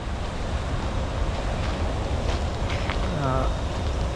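Choppy storm surf at Jeffreys Bay and Bruce's Beauties, with a constant roar of waves and strong wind buffeting the microphone, and a voice briefly heard near the end.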